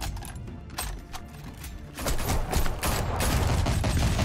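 Heavy gunfire rings out in Batman: The Telltale Series, a rattling fusillade of many shots that swells louder after a couple of seconds and keeps up in a dense, continuous barrage with metallic clatter.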